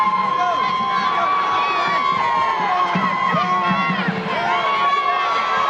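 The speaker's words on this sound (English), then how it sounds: "Rowan crowd starting to get into it here" College basketball crowd in the Rowan gym at the 1999 NJAC championship against Stockton, a dense, steady roar of cheering and shouting throughout with whoops rising above it and a whistle-like tone running underneath.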